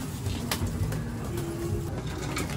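Pigeons in a home loft coo steadily while being fed, a close, continuous murmur of low throaty calls overlapping one another with no talking.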